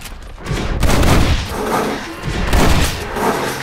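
Rapid gunfire from the video game Red Dead Redemption, with a dense, loud barrage of overlapping shots and booms that keeps up without pause.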